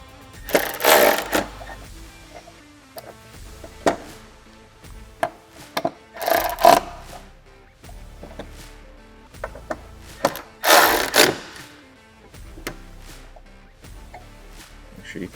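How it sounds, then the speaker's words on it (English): Hardware is tightened down on aluminum doors for a Polaris RZR Pro R 4 UTV: a few bursts of ratcheting clicks separated by quiet pauses and small metallic knocks, close by. "I'm just going to go ahead and fully tighten my hardware down"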